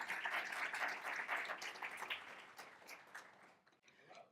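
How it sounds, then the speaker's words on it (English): An audience applauds a keynote speaker at a morning session, steady dense clapping that thins out toward the end as a voice begins. "please let's give her a round of applause to start off the morning"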